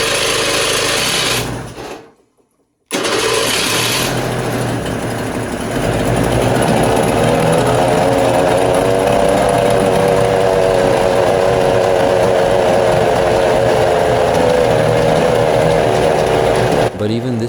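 A rough-running 1968 boat engine that smokes and shakes, a loud, close, continuous buzzing drone with an uneven, rattling texture, broken by a brief dropout near the start before settling back into a steady roar.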